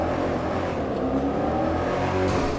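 A Mercedes C63 AMG engine in the video game GTA 5 idles and revs inside a parking garage, a low rumbling drone that stays steady and fairly loud throughout, with no talk.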